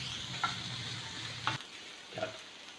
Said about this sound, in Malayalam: ഇപ്പം നമ്മുടെ സവാള ഇവിടെ വഴന്നു വന്നിട്ടുണ്ട്